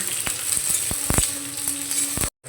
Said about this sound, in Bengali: দিয়ে দিয়েছি সাদা তেল দুটো মাঝারি সাইজের পেঁয়াজকে আমি এইরকম মোটা মোটা করে কেটে নিয়েছি দিয়ে দেব পেঁয়াজটাকে একটু আমি ভেজে নেব